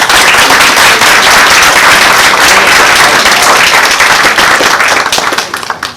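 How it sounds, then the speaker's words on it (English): An audience at a panel event on cancer technology applauds the panelists, loud, dense clapping from many hands sustained for about six seconds before starting to thin out at the end. "So can I just get a round of applause for our panelists?"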